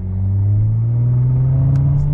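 An Audi B9 S4 engine revving at full throttle for a launch, a loud, close, steady droning rumble whose pitch climbs slowly and evenly.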